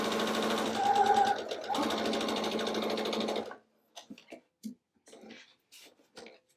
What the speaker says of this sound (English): we're going to sew all of these down and then press